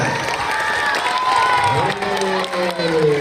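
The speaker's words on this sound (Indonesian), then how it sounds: "Tepuk tangan untuk Faisal" Children at an Isra' Mi'raj event at an Islamic elementary school cheer and clap for a classmate, a loud crowd of shouting young voices with scattered applause, close and continuous.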